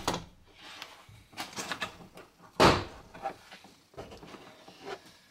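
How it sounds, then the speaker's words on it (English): A plastic interior door panel on a Toyota FJ Cruiser is pried off its clips, giving scattered rustles and creaks with one sharp, loud snap midway as a clip pops free. "get a hand in up underneath the plastic edge of the panel and start from there and pull it out"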